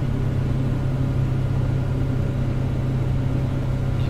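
A light aircraft piston engine runs steadily at reduced RPM during mixture leaning, a smooth, continuous low drone with no talk.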